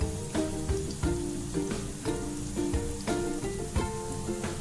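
Potato mixture for Potato 65, seasoned with turmeric, dropped into hot oil and frying: a steady, close crackling sizzle with scattered pops and a few sharper bursts throughout.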